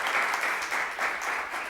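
Audience applause welcoming a speaker at a talk on Catholic social doctrine, a steady dense wash of clapping filling the room without pause for the whole short stretch.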